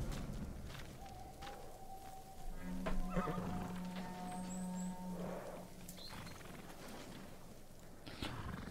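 A horse whinnies in the samurai video game Ghost of Tsushima, one drawn-out neigh over game ambience and faint hoof clatter, with no talk over it.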